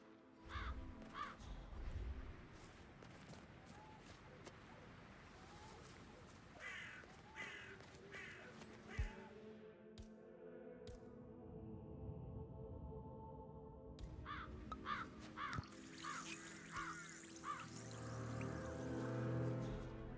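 Crows caw in Hitman World of Assassination, giving several harsh, repeated calls at a moderate distance over quiet game ambience, with the cawing thickening toward the end.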